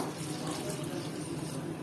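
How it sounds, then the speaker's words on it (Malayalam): Water runs steadily into a pan of fish curry in a quiet, even pouring rush that lasts under two seconds. "ഇനി നമുക്ക് ഇതിക്ക് വേണ്ട ആവശ്യമില്ല വെള്ളം ഒഴിച്ചു കൊടുക്കാം"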